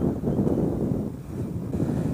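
Wind buffeting a microphone while riding a Honda Rebel motorcycle, a continuous low rumbling roar with gusty fluctuations, loud and close, no voices.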